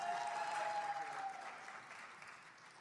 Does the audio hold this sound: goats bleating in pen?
no